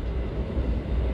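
An executive-class train carriage of the 2016–2017 New Image series rattles steadily along the rails, a continuous loud low rumble with clattering texture and no pauses.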